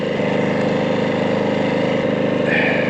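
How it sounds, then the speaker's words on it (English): A small engine drones steadily and close by, a constant mechanical hum with a faint higher whine creeping in near the end. "Got a generator, might as well use it, right?"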